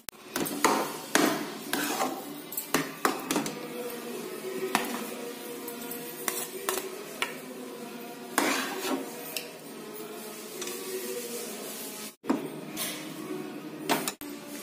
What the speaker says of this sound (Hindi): हलवे को हमने प्लेट में निकाल लिया है